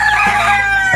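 A rooster crows in a rural Filipino yard, one loud, drawn-out cock-a-doodle-doo close by that fills the whole moment, with no voices over it.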